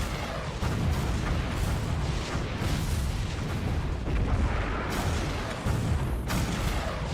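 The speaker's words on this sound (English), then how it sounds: "then, suddenly, countless explosions erupt, heralding the beginning of a catastrophe." In Girls' Frontline, countless explosions erupt over Frankfurt during an air raid, with loud, dense booms and rumbling blasts that follow one another continuously.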